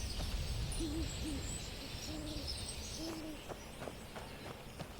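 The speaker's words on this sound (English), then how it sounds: "Can hear the owls and such in the background there." Owls hoot softly in a nighttime wilderness of modded Skyrim near Bruma, several short two-note calls spread over a few seconds against a steady ambient hiss, with no talking.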